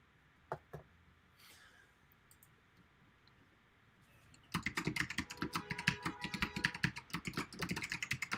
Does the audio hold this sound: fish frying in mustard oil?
no